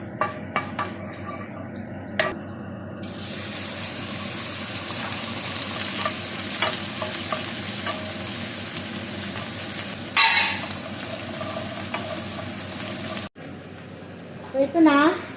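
Garlic fries in a pan with a steady close sizzle, broken by scrapes and clinks of a utensil against the pan. Someone talks over it, and the frying cuts out abruptly near the end.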